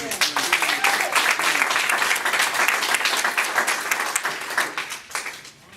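An audience at a meeting applauds, a dense, warm wash of clapping that thins into scattered claps toward the end, with voices mixed in.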